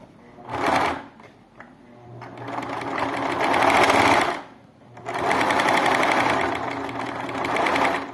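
A sewing machine stitches a seam on a fabric plush pig toy. It runs in loud whirring bursts, stopping and starting several times with short pauses between runs.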